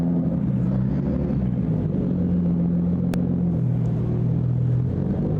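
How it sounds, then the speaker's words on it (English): Loud car passing on a street in Funabashi, Japan, a heavy continuous low engine rumble with a slowly shifting drone that stays strong throughout, up close and alone without speech. "that car's very loud"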